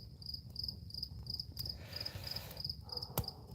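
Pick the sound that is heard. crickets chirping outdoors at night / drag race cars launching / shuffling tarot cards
crickets chirping outdoors at night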